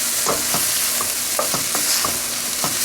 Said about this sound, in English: Just want to kind of saute them up just a little bit.